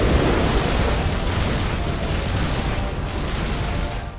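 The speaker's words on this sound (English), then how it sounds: "Apparently the explosion just wrecked a lot of my fortress." A fortress in the video game Sky Cannoneer is wrecked by an explosion, a loud, dense rumbling roar of broadband noise that holds steady for several seconds with no voices over it.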